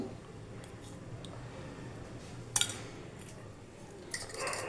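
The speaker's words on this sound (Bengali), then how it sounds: "ডিমের মধ্যে কনস্ট্রাচ আর নুন দিয়ে এটাকে মাখিয়ে নিচ্ছি" Egg being mixed with cornstarch and salt in a bowl, soft close scraping and occasional clinks of a utensil against the bowl, quiet and intermittent.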